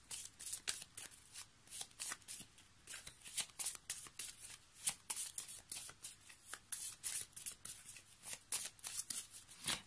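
Small oracle cards are shuffled by hand, close and quiet, as a rapid run of crisp riffling and flicking bursts that keeps going steadily for about ten seconds.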